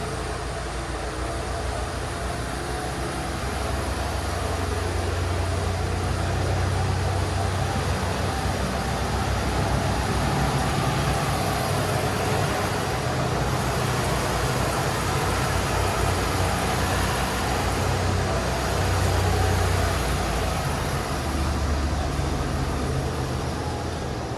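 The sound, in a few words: 1989 Mercury Grand Marquis engine idling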